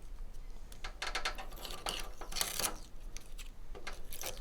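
Protective film peeled off a lit car logo on a Subaru WRX, a series of crackling, rasping tearing bursts at close range with short pauses between pulls.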